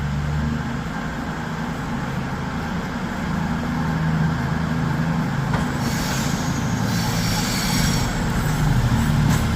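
CrossCountry Class 220 Voyager 220001 pulls out of Birmingham New Street bound for Southampton Central: a steady, fairly loud diesel rumble that holds throughout, with a brighter hiss and faint wheel squeal swelling in the last few seconds.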